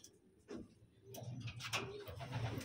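Pigeons in a loft coo softly in a few low, throaty bursts, faint and close, with light rustling and small background noises between calls.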